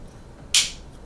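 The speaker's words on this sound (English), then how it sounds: "I'll take the gear and slide it in." A hardened steel extruder gear on a Bambu Lab P1P or P1S 3D printer clicks into place once, a single sharp close snap midway through an otherwise quiet moment.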